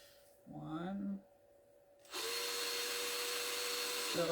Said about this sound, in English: Drill a hole in that